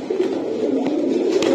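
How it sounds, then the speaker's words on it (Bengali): Golla pigeons at a wholesale pigeon market coo in a low, rolling, continuous murmur, close and fairly loud, with faint background bustle and no talking. "এটা কি কবুতর এটা ভাই? আবারও গোল্লা কবুতর?"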